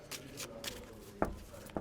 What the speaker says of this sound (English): We're going to shuffle a few.